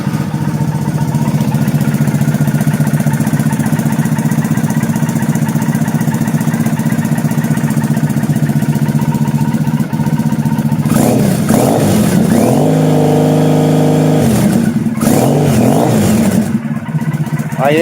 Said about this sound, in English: I'm going to start the bike so you can hear the exhaust system.